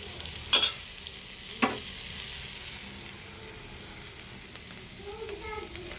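Beaten eggs, two of them lightly salted, poured over idli in a hot pan give a soft, steady frying sizzle, with a couple of sharp clinks near the start and no talking.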